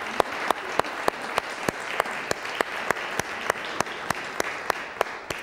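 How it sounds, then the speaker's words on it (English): Sparse, rhythmic clapping in a church congregation during a morning liturgical service, honoring a denominational elder; a few hands beating a steady even pulse, fairly close and alone. "Let's give Nancy a huge round of applause this morning."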